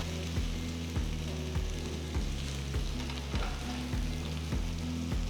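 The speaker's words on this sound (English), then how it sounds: "So we're going to fry this on medium flame till you get this lovely rich brown color." Vegetable pieces fry in a pan over a medium flame with a continuous close sizzle, while a spoon gently stirs and scrapes at regular intervals.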